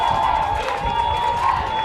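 Quebec fans cheer in the stands at a Canada Games men's baseball game against Alberta, a steady, dense crowd roar with a constant high tone riding over it.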